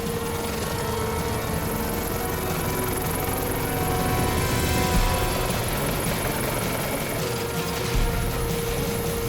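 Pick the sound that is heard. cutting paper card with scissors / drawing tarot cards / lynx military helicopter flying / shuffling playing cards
lynx military helicopter flying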